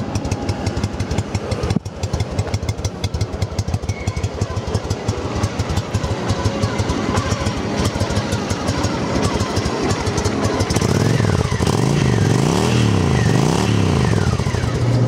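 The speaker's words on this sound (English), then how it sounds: "Starts up nice and easy, man. The Hondas are real quiet. Real quiet little motors." A Honda Shadow Ace VT750 motorcycle idles with an even, quick low thump, then revs up and down in several swells toward the end, close and fairly loud.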